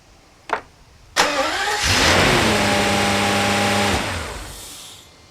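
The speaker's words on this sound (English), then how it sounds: "Attempting to run the engine with the right side EA harness disconnected." A Mercedes 600SL engine with the right-side EA wiring harness disconnected cranks after a couple of clicks, catches, revs up and runs roughly for a few seconds, then dies away.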